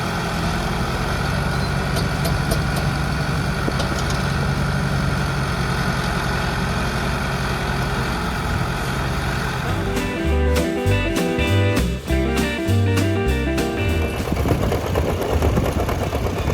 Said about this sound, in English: And Kevin Albright of South Dakota, plowing with a Massey Ferguson 4245, pulling a Kverneland reversible plow equipped with plastic moldboards.